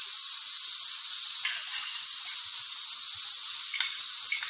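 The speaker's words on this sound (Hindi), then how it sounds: "अब मैं इसमें नमक और लहसुन अदरक का पेस्ट डाल के इसको अच्छे तरीके से भून लेंगे।" Mutton roasting in a pan with salt and ginger-garlic paste gives off a steady high, airy sizzle that holds evenly throughout, with occasional faint crackles and no talking.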